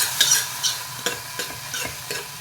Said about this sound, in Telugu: తిరగమాత వేసుకున్నానండి. కొంచెం ఇంగువ కూడా వేసుకోండి.